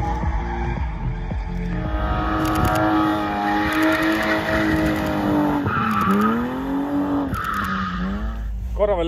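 A Mercedes-Benz EQC electric car revs hard with screeching tire squeals as it slides during drift training on a track, loud and close, with voices partly audible over the roar.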